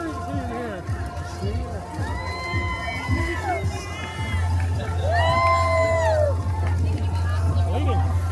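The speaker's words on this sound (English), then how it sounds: "We got a cheering team here." Crowd of spectators cheering and whooping for runners along the course of a 5K race, lively shouts and cheers rising toward the end over steady footsteps and nearby chatter.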